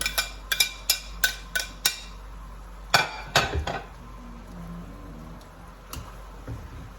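A metal utensil clinks and taps against a cooking pot as bacon goes back in for coq au vin. There are about eight sharp, evenly spaced knocks, then a few scattered clatters, with quiet stretches in between.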